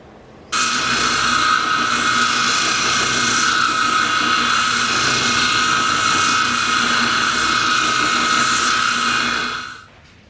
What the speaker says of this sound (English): we're going to be using our orbital sander